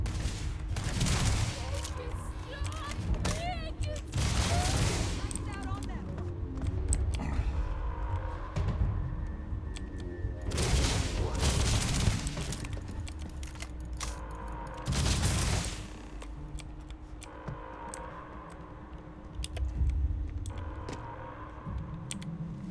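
Energy-weapon bursts from an EM rifle in the space game Starfield, repeated volleys of sharp shots spread across the stretch with booming impacts, heavy combat noise and a low mechanical hum underneath.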